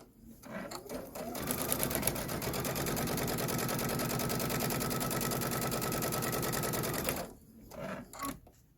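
A domestic sewing machine piecing fabric pairs for a quilted bench pillow top runs in a steady, fast whirring stitch for about six seconds, close and loud, with brief handling sounds before and after.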